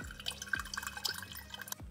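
Water runs into an electric kettle for tea, heard as a close, soft trickle with small irregular drips and splashes over a couple of seconds.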